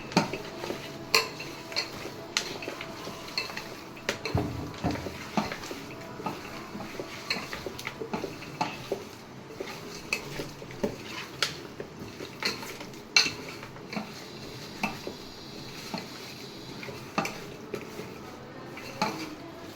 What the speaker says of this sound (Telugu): ఇది కూడా కొంచెం టేస్ట్ కోసం మళ్ళీ మొత్తం మిక్స్ చేసుకోవాలి